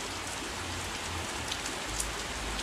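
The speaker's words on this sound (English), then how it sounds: "make sure to bring an umbrella if it's raining like this where you're going" Heavy rain pours down steadily throughout a rainstorm, a dense continuous hiss of drops striking surfaces close by, with no voices.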